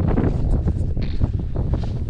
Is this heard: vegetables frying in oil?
no